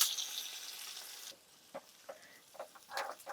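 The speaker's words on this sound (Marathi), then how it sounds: "तेल तापलं की आपण मोहरी घालूयात. मोहरी तडतडली की हिंग घालायचा" Mustard seeds in hot oil give a faint frying hiss that cuts out, followed by a few scattered soft pops and crackles close by, with no voices.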